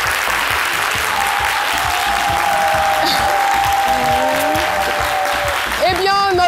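Steady, loud applause from an audience fills the clip, with music playing underneath and a rising tone near the end.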